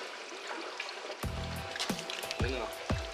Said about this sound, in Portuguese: Água do tanquinho, onde que sai, ó.